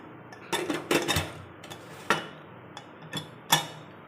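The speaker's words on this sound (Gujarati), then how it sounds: "હવે આપણે કુકરને બંધ કરી લઈશું" Sharp metallic clicks and clanks as a pressure cooker lid is fitted and locked shut, a handful of separate knocks with no talking.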